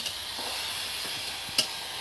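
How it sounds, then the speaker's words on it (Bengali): Water poured into a frying vegetable mixture for vegetable chops, a soft continuous sizzle and hiss in the pan with a brief sharper spit partway through, close and without talking. "বন্ধুরা অল্প করে এবার এর মধ্যে জল দিয়ে দিচ্ছি।"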